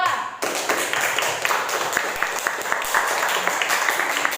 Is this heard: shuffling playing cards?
no